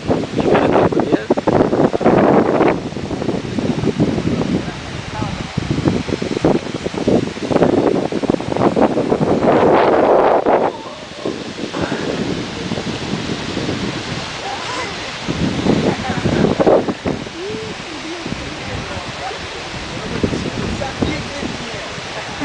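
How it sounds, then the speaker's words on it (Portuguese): Tabuleiro waterfall in Minas Gerais, steady rushing water buffeted by strong gusts of wind thumping against the microphone, loud and close, with people talking at times. "Cachoeira Tabuleiro."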